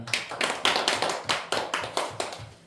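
A church congregation claps at the close of a Sunday worship service: about eleven distinct, evenly spaced claps in a steady rhythm, fairly close and clear, with no voices over them.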